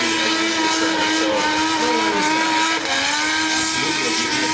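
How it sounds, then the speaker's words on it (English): Nissan GT-R R35 doing a smoky burnout, a loud continuous roar of engine and squealing tyres that holds steady throughout, with no talk over it. "And it's still able to do smoky burnout as we described."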